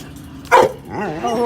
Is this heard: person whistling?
no